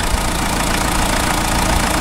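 A Renault Scenic with an F8T engine idles steadily while warming up, a loud, close, even mechanical rumble with a light knocking texture that runs without a break and with no talk.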